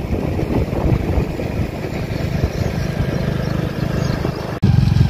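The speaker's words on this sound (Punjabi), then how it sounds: "ਇੱਥੇ ਮੋਟਰਸਾਈਕਲ ਚਲਾਉਣਾ ਥੋੜ੍ਹਾ ਮੁਸ਼ਕਿਲ ਹੁੰਦਾ, ਤਲੂਆਂ ਦਾ ਬਿਲਕੁਲ ਰੇਤਾ" A motorcycle rides across loose desert sand in the Thal region of Pakistan, its engine droning steadily up close, with a brief cut near the end before it resumes louder.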